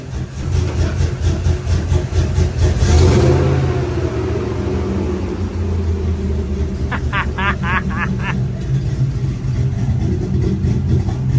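Truck V8 rumbling loudly through an open exhaust cutout, swelling in a strong rev early on, then settling into a deep, close idle, with a brief burst of faint chirps later.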